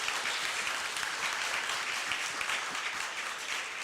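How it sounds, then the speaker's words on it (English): Audience applause filling a conference hall at a public-goods funding event in Taipei, dense steady clapping throughout at full loudness, with no voices on top. "Give them a round of applause."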